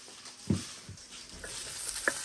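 Sausages frying in a pan for an Irish breakfast fry-up, a soft close sizzle with light stirring and spatter pops, heard alone without voices.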